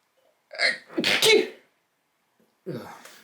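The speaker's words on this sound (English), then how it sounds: "It's a sneeze." A single sharp sneeze up close, preceded by a quick intake of breath, followed after a short pause by a brief voice.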